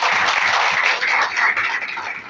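A church congregation applauding during a worship service, dense, sustained clapping from many hands, fairly close and loud, rolling on without a break.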